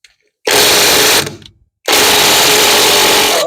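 A compact impact wrench works a nut loose on a Farmall M tractor, giving two loud close bursts of harsh mechanical whirring separated by a brief pause.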